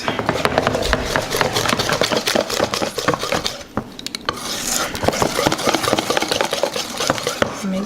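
A mousse mixture being whisked, likely with an electric mixer, producing continuous close rattling and scraping against the bowl with uneven rhythm and a brief lull midway.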